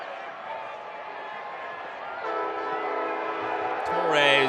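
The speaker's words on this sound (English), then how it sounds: "Train comes by. Crowd got him to toot the horn." A passing train near a soccer stadium sounds a sustained horn, with a steady rumble beneath and crowd noise and a commentator's voice over it, growing louder toward the end.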